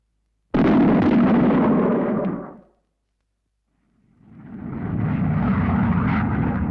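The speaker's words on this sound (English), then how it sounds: "The same sort of thing may happen with an aircraft flying at a steady speed above Mach 1" An aircraft flying at supersonic speed, above Mach 1, gives two loud roaring passes, the first beginning abruptly and the second swelling in gradually after a silent gap.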